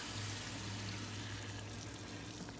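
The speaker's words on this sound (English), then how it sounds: "Just go ahead and pour that cup of water right in there." A cup of water poured into a pot of beef and spices on a stove at medium heat, a steady close splash and hiss lasting a few seconds with no voices.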